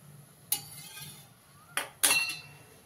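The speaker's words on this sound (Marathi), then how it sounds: "आता आपण गॅस चालू करू आणि तळण्यासाठी कढई ठेवूयात गॅसवर" A metal wok (kadhai) is set down on a gas stove, giving three separate clanks, the last one loudest with a short ringing clatter, against a quiet room with no talking.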